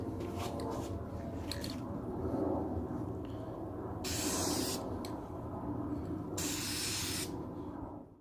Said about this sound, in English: I'm gonna spray down so I can get inside of here